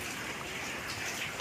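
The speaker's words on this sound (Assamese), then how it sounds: "নেৰা নেপেৰা বৰষুণটো আচলতে একেলেঠাৰিয়ে কণ্টিনিউ দিয়ে আছে" Steady drizzle falls outdoors as a soft, unbroken hiss of rain with faint patter. It stays even throughout and no voices are heard.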